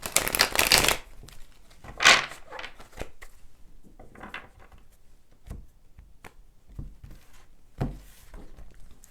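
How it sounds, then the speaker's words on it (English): Tarot cards being shuffled, a loud riffling burst at first, then softer repeated shuffles and taps, close up with no talking. "One more shuffle."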